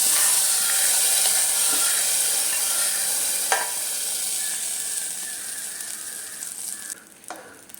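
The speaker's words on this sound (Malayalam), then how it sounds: "നമുക്ക് കടുക് വറുത്തത് ഇതിലേക്ക് ഒഴിച്ചു കൊടുക്കാം" Fried mustard seed tempering hits a pot of Kerala sambar and sets off a bright sizzle that slowly fades, with a few sharp clinks and splashes near the end.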